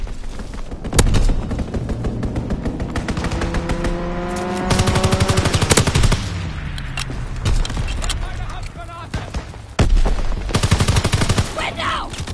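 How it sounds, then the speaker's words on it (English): Video game strafing run: bursts of rapid machine-gun fire come with whooshing aircraft passes and sweeping engine tones, loud and close, in several clusters through a busy battle mix. "Strafing run inbound."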